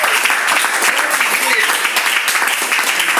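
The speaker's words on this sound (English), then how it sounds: "So can you clap for her?" A small gathering claps for a woman linked to an orphanage visit, a loud, continuous wash of hands close by, with some voices mixed into the clapping.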